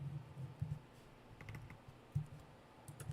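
Loud computer keyboard typing heard in quiet bursts, with scattered clicks and a few longer runs of keystrokes over a low background hum.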